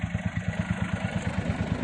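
A Bullet motorcycle idles nearby with a steady thumping, evenly pulsed low beat, close and loud, accompanied by light mechanical clatter.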